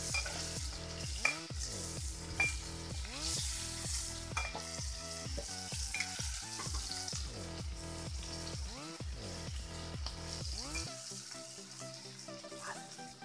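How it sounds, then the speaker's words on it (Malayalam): Fish pieces frying in oil in a pan for fish molly: a continuous sizzle broken by repeated scraping strokes as they are stirred. The strokes come roughly every half second, then the stirring stops near the end and only the sizzle remains. "നമ്മളിത് ഉടഞ്ഞു പോയിരിക്കാൻ വേണ്ടി ഒന്ന് വറുത്തുന്നേ ഉള്ളേ."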